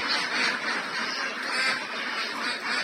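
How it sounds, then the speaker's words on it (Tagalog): Ducks around eight to nine months old quack in a steady, overlapping chorus close by, with no talking. "Ayan yung mga itik natin na mag 8 months or mag 9 months naman siguro ito."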